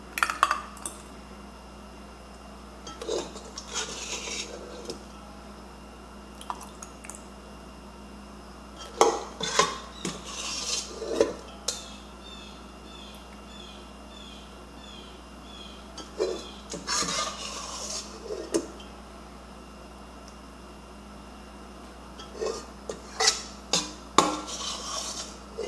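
Warm tomato sauce with garlic and onion chunks being spooned into glass canning jars: intermittent metallic clinks and scrapes of a utensil against pot and jar rims, close by, over a steady low hum.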